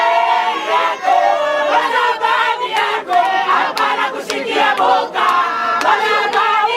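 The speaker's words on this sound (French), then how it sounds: "La foule était immense, chantant et dansant en son honneur et à la gloire du président de la République." A huge crowd at an airport welcome sings and dances, loud massed chanting voices in rhythmic bursts close by, continuing without a break.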